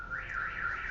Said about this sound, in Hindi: ये बुकोल्ज रिले का अलार्म है